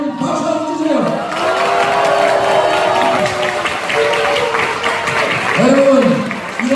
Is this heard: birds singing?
no